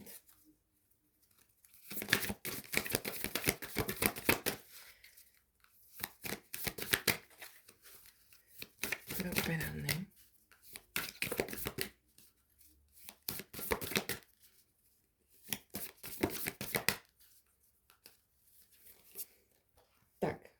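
Oracle cards are shuffled and drawn during a card reading, bursts of crisp papery riffling and flicking repeated close up, separated by quiet gaps, with soft speech at times.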